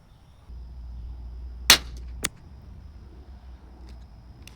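Two sharp unsuppressed .22 LR rifle shots fired at targets on an outdoor range, the first loud and crisp, the second close behind at about half a second, over a steady low hum.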